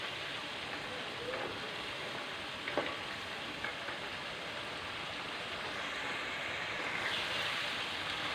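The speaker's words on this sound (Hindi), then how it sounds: "तकरीबन हम 5 मिनट तक मसाले के अंदर डालकर इसको भून लेंगे।" Fried gram flour dumplings sizzle in masala in a pan, a steady, soft hiss that carries on throughout, broken by a few light stirring clicks, with no talk.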